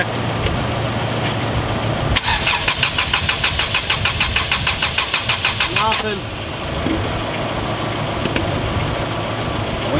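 Subaru that has sat unused for four years being cranked over by its starter, giving a rapid rhythmic chugging for about four seconds over a steady background hum before it stops without a clear catch.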